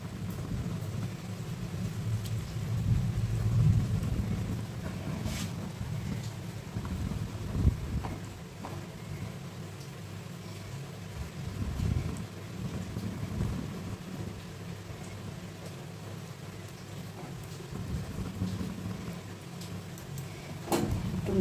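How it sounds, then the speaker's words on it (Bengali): Low thunder rumbles in swelling waves outdoors, with a soft wash of wind or rain and a few faint clicks in the background. "মেঘ ডাকছে কি গুড় করে।"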